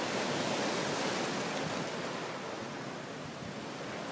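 Ocean surf washing onto a beach in St. Martin, a steady broadband roar of breaking waves that stays loud and continuous throughout with no voices.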